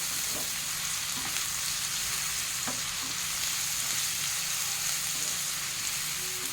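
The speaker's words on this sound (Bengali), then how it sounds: "আদা রসুন বাটা দিয়ে ভালো করে একটু ভেজে নেবো, যাতে কাঁচা গন্ধটা না থাকে।" Ginger-garlic paste fries in a hot pan for a spicy chicken curry, giving a steady, close, crackling sizzle throughout with a few faint soft clicks, and no voices.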